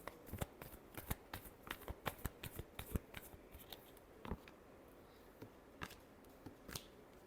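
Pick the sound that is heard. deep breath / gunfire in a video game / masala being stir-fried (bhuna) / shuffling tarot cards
shuffling tarot cards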